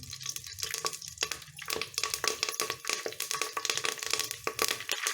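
Curry leaves crackle and spit in hot oil while a sea-fish curry (Kanaganthalu chepala pulusu) is being made, giving a dense, continuous sizzle of sharp pops and spatters, close and fairly loud, with stirring clatter and no talking.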